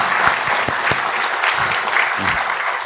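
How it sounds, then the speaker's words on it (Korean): An audience at a public lecture on local self-governance applauds, a dense, sustained burst of clapping from many hands throughout. "다시 한번 큰 박수 부탁드립니다"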